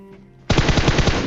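MK14 rifle firing in PUBG Mobile, a sudden rapid burst of loud, punchy shots that rings on without pause after a quiet lead-in.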